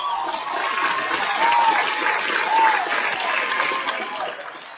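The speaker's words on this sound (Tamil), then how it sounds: "இன்னொரு முறை உங்களுடைய கரகோஷத்தை கொடுத்து அவரை ஊக்குவியுங்கள்" Steady applause from a crowd at a live televised song-contest show, a dense wash of clapping that swells slightly midway and tapers near the end.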